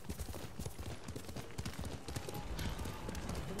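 Galloping horse hooves in Ghost of Tsushima pound in a fast, steady rhythm, close and continuous with rumbling game ambience and no talk.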